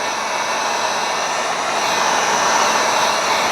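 A heat gun blows a steady, close, even hiss of hot air while warming vinyl wrap film on the trunk of a Tesla Model Y, with no talking.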